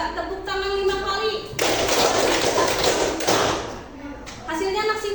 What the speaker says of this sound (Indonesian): Coba tepuk tangan 5 kali.